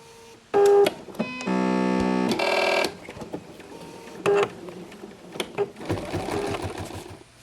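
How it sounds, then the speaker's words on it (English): An embroidery machine stitches an applique placement line in quick bursts of rapid mechanical needle chatter, separated by short pauses and quieter whirring, close up with no talking. "it will stitch out a placement line, and that placement line on this design is actually going to be first. So we're going to stitch it out first"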